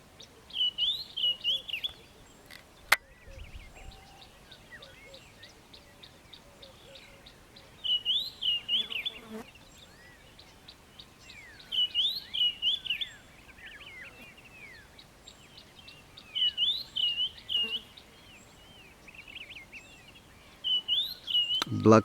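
A red-eyed dove calls from far off in a morning bird chorus, its faint repeated phrases coming between louder bursts of nearby songbird chirps and trills from birds including a scrub robin and a bushshrike.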